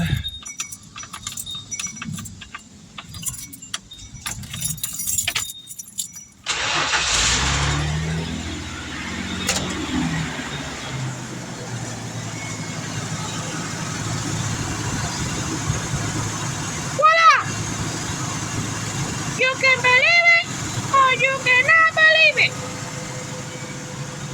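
A 1996 Ford F-150 pickup, one that shakes and lacks power, is started: keys jangle, then the engine cranks and catches into a rough, steady idle. A few short sharp noises sit on top of the idle.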